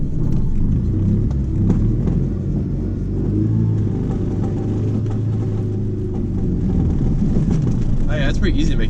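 A Chrysler TC with a 16-valve engine pulling away on the road, a steady low engine rumble and drivetrain drone heard from inside the cabin, with a person speaking over it.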